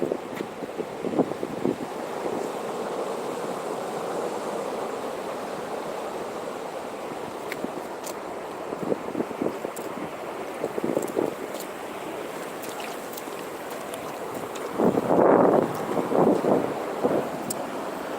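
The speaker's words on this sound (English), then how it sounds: "There's a big wave coming." North Atlantic Ocean waves roll and break at night in a steady windy wash with scattered gusts and buffeting. Near the end, a louder surge crashes in.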